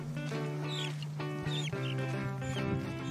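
Chickens near a crocodile pond outside Ouagadougou cluck and squawk in short, overlapping calls, close and fairly loud, with no talk.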